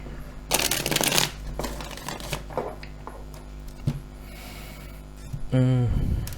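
Tarot cards being shuffled by hand in several quick riffling bursts, close and crisp, separated by short pauses.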